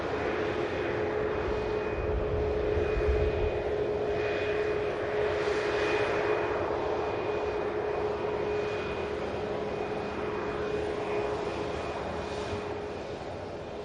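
Air Transat airliner arriving at Manchester Airport, a steady jet engine roar with a constant whine and tonal hum, gradually easing toward the end.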